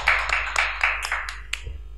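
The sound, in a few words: applause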